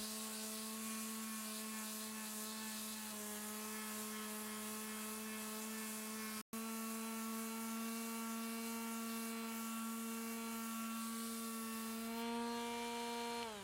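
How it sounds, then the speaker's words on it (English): Varnished wooden floorboards are sanded with rough-grit sandpaper on a power sander, producing a steady, humming motor whine with a momentary cut-out partway through and no speech. "I first used some sandpaper with a very rough grit to just scratch the surface a bit"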